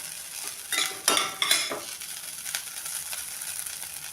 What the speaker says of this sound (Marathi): आणि मिक्स करून घेऊया ही भाजी.